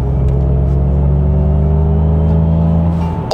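Synthetic engine note from an MG Cyberster electric convertible, a loud, steady droning hum with layered tones that holds level throughout, with a brief click near the end.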